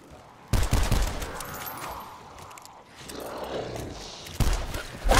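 Gunshots in a zombies video game, bursts of sharp firing at the start and again near the end, with a quieter rumbling stretch between.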